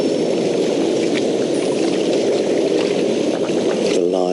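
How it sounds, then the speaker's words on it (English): Steady rushing water heard from a park bench, a constant broadband wash with no pauses, fairly loud and unbroken throughout, with faint background activity near the end. "the sound of the water"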